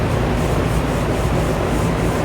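Paper towel rubbing steadily over a wet-sanded Road Glide motorcycle part to dry it, a continuous close scuffing wipe with no pauses.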